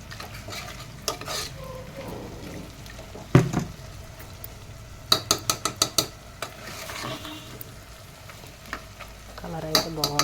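Spoon clattering and scraping as mutton and drumstick curry is stirred in a metal pan, sharp clinks in bursts over a steady low sizzle, near and fairly loud, with no talking.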